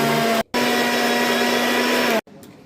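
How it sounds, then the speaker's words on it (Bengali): A kitchen mixer grinder whirs loudly as it purées muskmelon into a paste, its steady motor drone broken by a brief pause before stopping near the end. "এরপর মিক্সিতে আমি দিয়ে দিচ্ছি বাঙিটাকে মিক্সিতে পেস্ট করে নিচ্ছি।"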